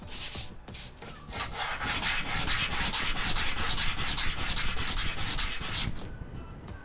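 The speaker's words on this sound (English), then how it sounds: "Do a light sanding." Sandpaper rubs back and forth steadily over a surface in a light sanding to remove leftover tape, a close, continuous scratchy rasp with a gentle stroke rhythm and no talking.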